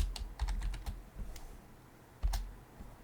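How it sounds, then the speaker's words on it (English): Computer keyboard typing in a quiet room as a customer name is entered: a quick run of light, separate key clicks, a pause, then a few more taps, close and soft with no talking. "So I'll type in a customer's name"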